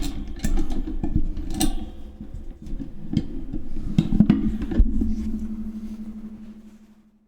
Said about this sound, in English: one of the screws came out the microphone stand